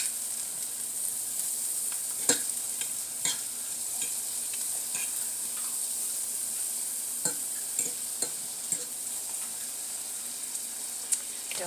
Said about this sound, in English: So, in goes some butter